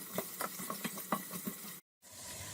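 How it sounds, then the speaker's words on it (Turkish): Carrots cook in olive oil in a pan, a soft, close crackling sizzle dotted with small pops and light stirring, then a brief cut before the quiet frying resumes. "Havuçlar rengini yağ verinceye kadar bu şekilde pişiriyorum."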